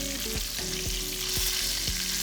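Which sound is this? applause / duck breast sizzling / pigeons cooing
duck breast sizzling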